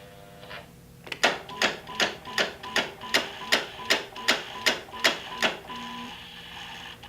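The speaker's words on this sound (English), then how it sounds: "So when I tried to put the key in the ignition and start the bike," BMW F800GS motorcycle failing to start on a weak battery, about a dozen sharp, evenly spaced clicks in a quick rhythm, close and clear with no talk.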